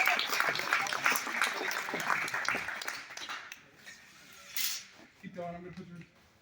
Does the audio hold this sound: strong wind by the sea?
no